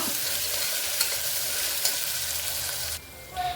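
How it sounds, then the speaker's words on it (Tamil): Onion and ginger-garlic paste sauté in hot oil for beetroot kootu, a loud, dense, continuous sizzle. The sizzle drops off abruptly near the end, and a brief scrape follows. "இஞ்சி பூண்டு பேஸ்ட்லாம் நல்லா வதங்கிருச்சு வெங்காயமும் சூப்பராக வதங்கிருச்சு"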